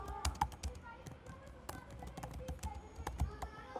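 Rapid irregular clicks of fingers typing on a computer keyboard during a manual software testing class, close and crisp, with a voice talking underneath.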